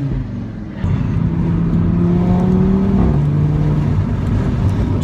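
A 2015 Audi RS3 engine droning steadily on the road, heard from inside the car as a loud continuous hum with a rising then dropping pitch as it shifts, without clear crackles.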